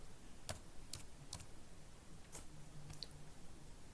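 Sparse, faint keystrokes on a computer keyboard while HTML code is entered: a handful of separate clicks at irregular intervals over a quiet room hum, with no talking.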